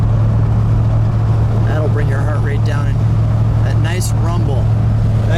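A 1971 Buick Riviera GS 455 rumbles steadily while driving, a loud, deep, even drone close up, with a voice talking over it partway through.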